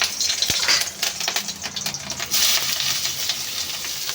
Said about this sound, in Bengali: তেল গরম হয়ে গেছে আগে লঙ্কা দুটো দেবো